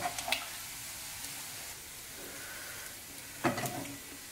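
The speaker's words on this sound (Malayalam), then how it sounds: "ഇതുപോലെ തന്നെ നമുക്ക് അടുത്ത ബാച്ചും ഫ്രൈ ചെയ്തെടുക്കാം" Chicken breast pieces deep-frying in hot oil give a faint, steady sizzle, with a few clinks of a utensil stirring and lifting pieces, quiet and close with no talk.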